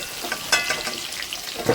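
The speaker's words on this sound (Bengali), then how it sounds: "এই তেলেই আমি লাউটা ভেজে নিচ্ছি" Steady crackling sizzle of bottle gourd frying in hot oil, with a few louder pops and stirring scrapes, close by and continuous.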